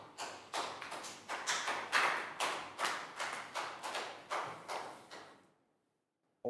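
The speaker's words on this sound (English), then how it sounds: "big round of applause for Pak Bung" A class claps for a student in a steady, fast rhythmic beat of roughly a dozen sharp claps, close and even, stopping abruptly and leaving brief silence before a final hit.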